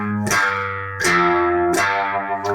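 Distorted electric guitar plays a song's intro riff, picking one note at a time, with three heavy crunchy strikes that each ring out thickly before the next, loud and close with no talking.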